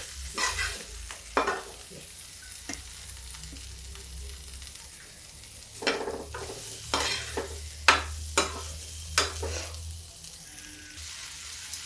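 Potatoes with spices and amchur fry in a pan for capsicum curry, a low simmering sizzle punctuated by repeated spoon scrapes and knocks against the pan.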